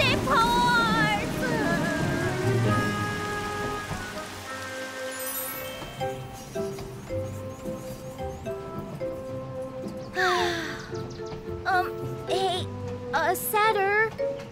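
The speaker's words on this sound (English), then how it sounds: "Oh, it's raining!" Cartoon rain on a train animation patters steadily over a bright musical score, with characters' voices and sound effects rising over the downpour.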